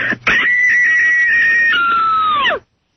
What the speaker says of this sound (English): so you want to hear me scream?